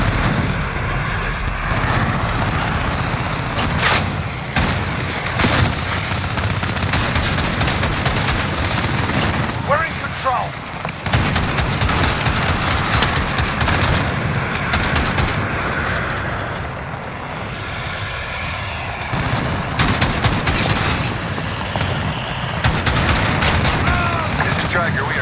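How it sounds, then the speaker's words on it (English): Heavy gunfire in Call of Duty Modern Warfare team deathmatch, dense bursts of automatic weapons and explosions filling nearly the whole stretch with brief lulls, aircraft engine drone and radio voices talking over the battle. "We're taking some fire."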